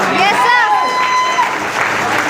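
A crowd applauds steadily with dense clapping, while a voice talks over it and a high tone rings through briefly.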